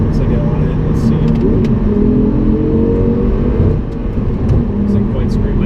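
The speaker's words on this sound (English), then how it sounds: "you'll hear some more of the engine noise as I roll through the gears a bit" An Audi R8 V10 sports car engine hums and revs steadily under a loud droning cabin rumble, with brief rising pitch as it pulls through the gears.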